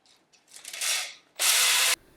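Small hone scouring deeply rust-pitted engine cylinders, two loud abrasive bursts, the second steady and sustained, close up with no talking.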